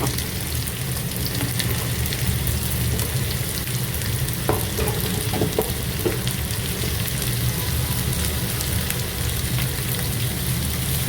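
Chickpea biryani ingredients frying in a little oil in a non-stick pan, a steady dense sizzle that stays loud and even throughout, with a few faint stirring clicks.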